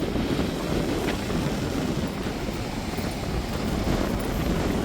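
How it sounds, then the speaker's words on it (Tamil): Steady wind blowing outdoors on an overcast, drizzly day, a continuous broadband rush with low rumble buffeting the microphone throughout, no voices. "காற்று தான் கொஞ்சம் அதிகரிச்சுக்கிட்டு இருக்குது."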